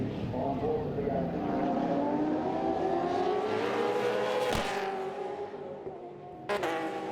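Race cars lapping a racing circuit in a WA Sporting Car Club round, including a Chev-powered Falcon, with loud sustained engine drone shifting in pitch as cars pass near, a sharp burst midway and another at the end, under commentator talk.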